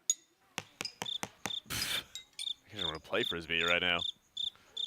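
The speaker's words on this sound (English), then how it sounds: "Those crickets aren't us. That's been put in by production." Crickets chirp in short, evenly repeated bursts throughout, with someone speaking over them partway through.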